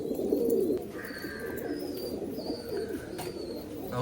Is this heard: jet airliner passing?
no